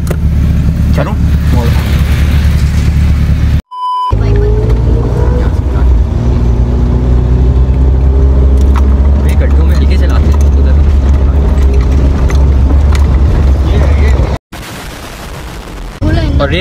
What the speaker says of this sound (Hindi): और रेस दो, रेस दो, रेस बंद हो जाएगी गाड़ी